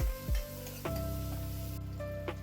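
Chopped onion and curry leaves fry in a pan with a steady sizzle, while a spoon scrapes and clanks against the metal in a few quick stirring strokes close by.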